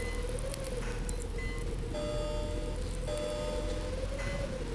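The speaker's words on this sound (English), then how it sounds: "Why is it raining but I see no rain behind me?" Rain falls in a steady, even patter with a soft background hiss, alongside faint sustained tones that come and go.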